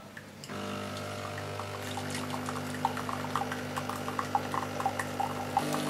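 A Tassimo pod machine dispensing a Cadbury chocolate drink, a steady pumping hum with liquid pouring and spattering forcefully into a cup, small splashy bursts recurring over the continuous flow.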